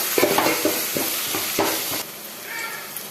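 Onions frying in oil with mustard seeds, a close crackling sizzle broken by several scraping stirs of a utensil in the pan, fairly loud and continuous.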